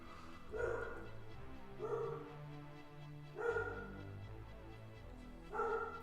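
A dog barks four times, spaced a second or two apart, each bark a loud indoor woof heard close by with nothing else in the background.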